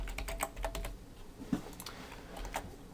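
Typing on a computer keyboard, a quick run of soft, close key clicks in short bursts with brief pauses, alone and without talk.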